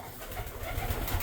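Racing pigeons coo softly and continuously in a loft. The low, murmuring calls overlap against a steady background hiss, close and moderately loud, with no voices.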